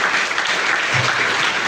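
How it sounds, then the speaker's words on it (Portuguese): A congregation bursts into steady, full applause during a church service, the close and continuous clapping filling the whole short moment with no voices above it. "Vamos dar uma salva de palmas para Jesus."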